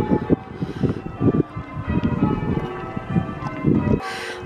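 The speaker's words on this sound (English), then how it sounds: "the church bells are ringing" Church bells ring outside a village pub beside a canal, their tones coming in repeated clanging strikes mixed with gusty wind buffeting the microphone.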